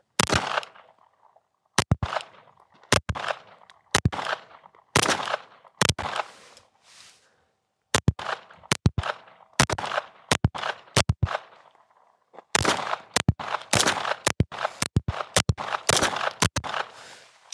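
Rounds from a double stack 1911 pistol fired one magazine for accuracy: sharp, loud, close shots come singly at irregular intervals, a few quick pairs and then a faster burst near the end, with no talking.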